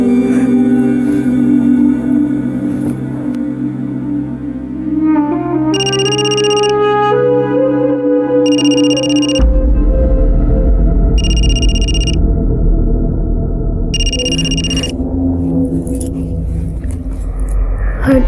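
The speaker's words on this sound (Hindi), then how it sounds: "फोन उठाओ" A telephone rings in a tense domestic scene, four bright repeated electronic ring bursts sounding over a loud, dramatic music score with a deep rumbling swell.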